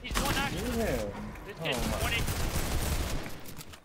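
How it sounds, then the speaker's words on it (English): Rapid bursts of video game gunfire in an arena shooter match crackle continuously under excited overlapping talk from players, loud and dense throughout. "if you guys see this headshot, Bink."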